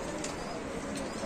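Soft, low cooing from a Lahori pigeon, a breed of domestic pigeon kept in a cage at a pigeon market, heard briefly and at a moderate distance over steady background murmur.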